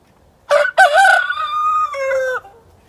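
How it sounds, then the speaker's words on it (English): A single rooster crows up close and loud, a drawn-out, wavering call that trails off, with quiet surroundings before and after. "That's the rooster that sounds so pitiful. There's nothing wrong with him, that's just the way he crows."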